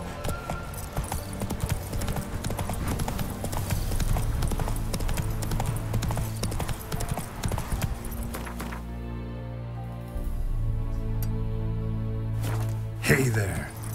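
The horse Roach clip-clops steadily along in The Witcher 3, hooves beating a regular gait up close, with a brief pause and some tack jingling before the hoofbeats resume.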